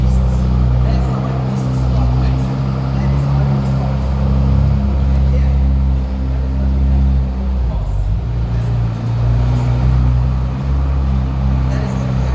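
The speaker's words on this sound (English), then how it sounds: "You start the car, you just have to have a key next to you," A Bentley Continental GT W12 with a 6-liter, 626-horsepower twin-turbo 48-valve W12 engine runs with a steady, deep idle rumble throughout, briefly dipping once before settling back to an even hum.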